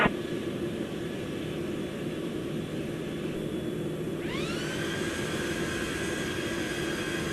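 An Air Europa Boeing 737-800 jet roars steadily on takeoff, a loud continuous engine rush with a rising whine that climbs partway through, heard close and without talk.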